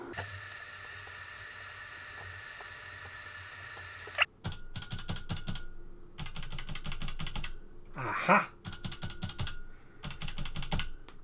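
Keys clacking on an Acorn Electron home computer keyboard after a solder repair, following a steady mechanical whir; typing comes in quick bursts of near, crisp clicks with brief pauses, and one short exclamation breaks in partway.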